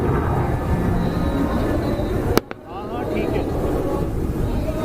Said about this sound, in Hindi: चिनूक हेलीकॉप्टर्स की गर्जना है